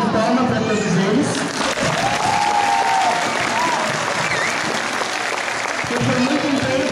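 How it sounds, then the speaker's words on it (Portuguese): A school audience gives sustained, dense applause for the teachers at a Boi de Mamão folk performance at APAE Brusque, with crowd noise and some voices mixed in, steady and loud throughout. "Eu gostaria de pedir uma salva de palmas para todos eles"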